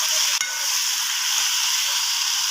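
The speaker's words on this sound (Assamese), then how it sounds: "কাজু টমেটো আৰু পিঁয়াজ ভাজি আছোঁ" Cashews, tomato and onion fry in a pan for a chicken gravy, giving a constant bright hiss of hot oil with a couple of faint knocks, close and with no voices.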